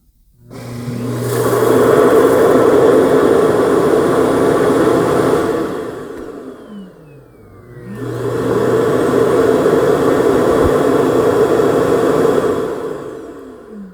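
The Yeedi M14 robot mop base station auto-empties with a loud, steady whirring suction roar that runs several seconds, dips briefly as the motor winds down with a falling whine, then surges back up and holds.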